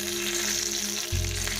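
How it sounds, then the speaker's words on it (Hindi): Chopped garlic sizzling and frying to golden brown in hot ghee for a tadka on Punjabi sarson ka saag, a close, steady hiss with a brief burst of louder crackle near the end. "4 से 5 जवे लहसुन के हैं, उन्हें मैंने चॉप कर लिया है और अब इन्हें मैं गोल्डन ब्राउन कर रही हूँ।"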